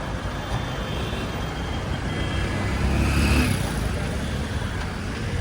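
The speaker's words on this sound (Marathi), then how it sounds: "मी तुम्हाला ट्रॅफिक दाखवतो" Steady street traffic rumbles through Mirzapur, a continuous broadband wash of engines and road noise with a brief swell midway, close and fairly loud, no clear speech.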